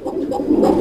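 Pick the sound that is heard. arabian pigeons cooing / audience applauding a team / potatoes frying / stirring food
arabian pigeons cooing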